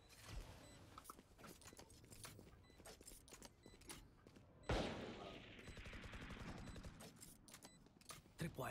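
Gunfire in the video game Valorant crackles in rapid bursts of sharp shots, with a louder close burst midway followed by a sustained noisy stretch and scattered clicks, while a voice talks intermittently.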